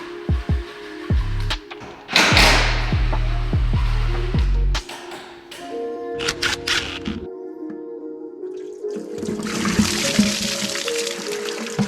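Water spilling from a car radiator as it is removed, heard as trickling and splashing mixed with clanks, clicks and handling noises from the work, with a longer hiss of pouring near the end.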